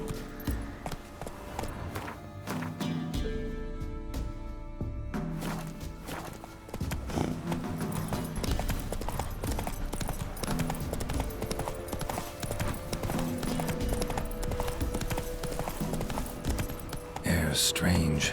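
Roach the horse walks along in The Witcher 3 on PS5, hooves clip-clopping in a steady rhythm near and clear, with a brief whinny-like cue and a voice speaking over parts of it.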